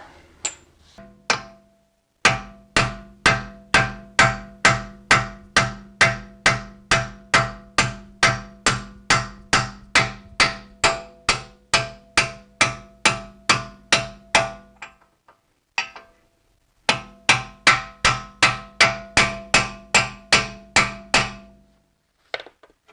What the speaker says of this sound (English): So just try to hit it straight, try to keep the socket flat against it as best you can.